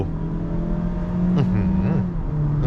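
A 2021 Mazda CX-3 with the 2.0 engine pulls hard at full throttle, its engine note rising steadily with a brief shift-like dip, heard from inside the cabin.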